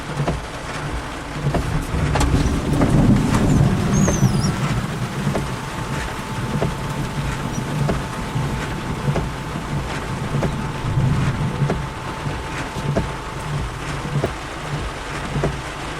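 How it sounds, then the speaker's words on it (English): Heavy rain falls steadily during a Florida summer thunderstorm, a dense, continuous hiss with no breaks that stays loud throughout. "Rain getting lighter, so it may improve a bit."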